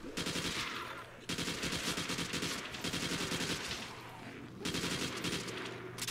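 Rapid automatic gunfire rattles continuously while shooting zombies in a custom zombies video game, loud dense bursts with brief pauses between volleys.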